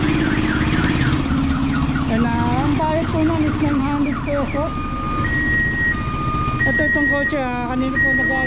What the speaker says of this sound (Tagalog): Kanina po nag-alarm po, hindi yata yung susi na may remote ang ginamit.